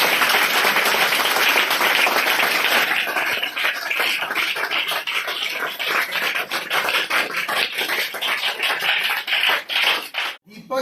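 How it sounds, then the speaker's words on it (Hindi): An audience claps to welcome a returning former student, now an SSB head constable, at a coaching institute gathering. Dense, loud applause runs steadily for about ten seconds, thins out and stops abruptly near the end. "ताली बजा के स्वागत"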